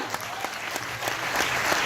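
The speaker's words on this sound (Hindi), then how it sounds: "सर और मैम के लिए भी एक जोरदार तालियां" A seated audience at a network marketing seminar bursts into dense, sustained clapping, loud and continuous with a faint murmur of the crowd beneath.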